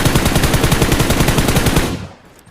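Rapid automatic gunfire in a battle royale shooter match at Rozhok, a loud, even burst of closely spaced shots lasting nearly two seconds before cutting off into a faint tail.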